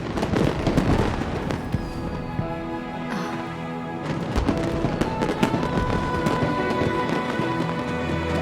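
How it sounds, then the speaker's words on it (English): Fireworks in Genshin Impact crackle and burst continuously in a dense, loud barrage, with sharp pops layered over a steady rumble and a faint whistle near the middle. "a firework that looks just like a pig!"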